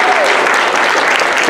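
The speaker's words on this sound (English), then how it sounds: "Round of applause for Gino." Applause at a school district board meeting honoring the district leadership team member of the year: steady, dense clapping from an indoor audience, loud and continuous throughout, with no pause.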